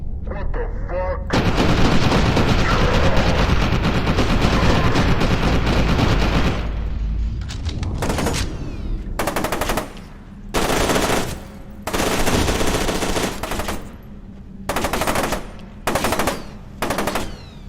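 Gunfire in the video game F.E.A.R. 2: a loud, sustained machine-gun barrage for several seconds, then repeated short bursts broken by brief pauses, with other battle noise underneath.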